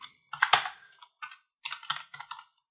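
Keys clatter on a computer keyboard in quick irregular bursts of close, crisp clicks, separated by short pauses.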